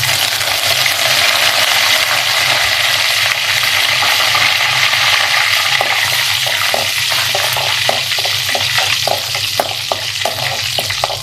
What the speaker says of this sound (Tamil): ஒரு கடாய் வச்சாச்சு எண்ணெய் ஊற்றிருக்கேன் கடுகு கடுகுழுந்த பருப்பு கருவேப்பிலை போட்டுக்கலாம்